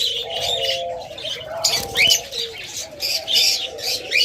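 Caged pet lovebirds chirp and coo nearby, with soft low cooing underneath and bright, quick chirps repeating over several seconds.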